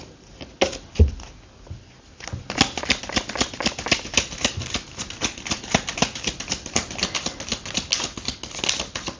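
A deck of tarot cards being shuffled close by: dense, continuous rapid clicking and riffling flutter that runs steadily with no pauses.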